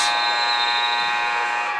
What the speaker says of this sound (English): the buzzer went a little premature, but alas, no good